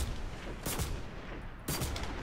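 Two sharp, loud sniper rifle shots ring out in the video game Destiny, spaced about a second apart, each with a short echoing tail over steady game ambience.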